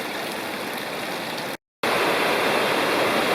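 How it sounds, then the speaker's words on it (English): Small waterfall in a wooded gorge just above Greg Prong Falls in the Lost Cove Wilderness, a steady close rushing of falling water, briefly cut to silence midway, then resuming just as loud. "Right above Greg Plonk Falls is this neat little tiny"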